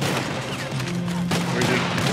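Gunfire rattles through a shootout in Red Dead Redemption 2, dense overlapping shots and booms filling the scene without pause, with voices shouting over the noise.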